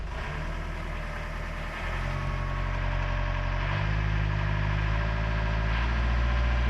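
A sailboat's small inboard engine drives a high-output alternator, idling with a steady low hum before revving up partway through to a stronger, even drone that holds to the end.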